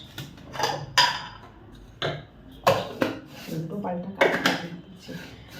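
A spoon stirring coffee and sugar in a glass, sounding as a series of sharp clinks and taps against the glass at irregular intervals, close and fairly loud.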